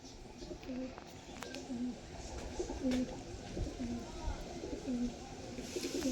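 A female pigeon coos close by in a steady string of soft, repeated low calls, evenly spaced over a background hiss, with someone speaking faintly in places.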